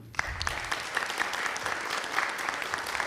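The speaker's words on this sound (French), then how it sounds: "On peut vous applaudir" A room full of people clapping, a dense burst of applause starting abruptly and continuing steadily.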